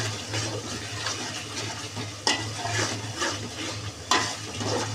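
A tehari mixture is stir-fried in a pan, with a dense continuous sizzle and watery bubbling, punctuated by two sharp scraping stirs, over a low steady hum and without voices.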